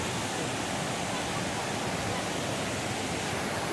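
Dakri Pada waterfall in Koraput roars with water rushing hard in a loud, unbroken wash of noise, close and steady from start to finish.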